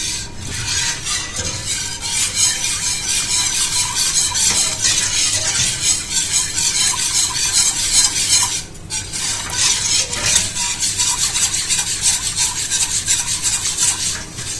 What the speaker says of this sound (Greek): θα ανακατεύουμε μέχρι να δέσει η μουσταλευριά μας